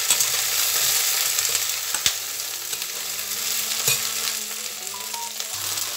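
Okra frying in a little oil in a pan, a constant close sizzle and hiss with occasional stirring knocks and scrapes, no one talking.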